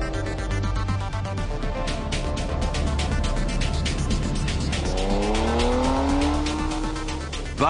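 A Ferrari 599GTB floored across open salt flats, its engine roaring loud and steady with rising harmonic sweeps as it gains speed, tire noise mixed in.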